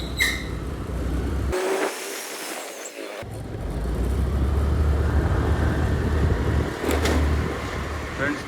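A strange-sounding vehicle engine runs steadily and loudly, its rumble dropping out briefly early on, then returning as a continuous drone with passing rises; someone talks over it.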